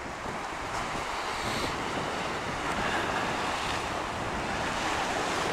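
Ocean waves crashing near a pier and jetty at Crescent City, California, a continuous broad roar of surf with wind, steady and fairly loud, with no voices.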